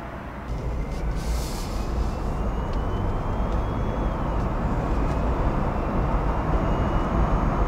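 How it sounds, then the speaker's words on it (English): A truck rumbles past a Jeep Wrangler 4xe soft top idling at a stoplight, heard from inside the cabin as a loud, steady low drone that swells in over the first half second and holds. "Truck's going by."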